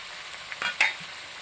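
Vegetable kurma masala with coriander and turmeric powder sizzles softly in a pan. A few quick scraping stirs are heard close by, with no talking.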